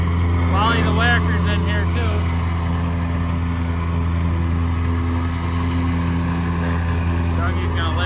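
A plate compactor tamps fill inside a concrete block stem wall foundation, its engine running loud and steady with a constant low thumping drone, while a voice speaks briefly near the start and end.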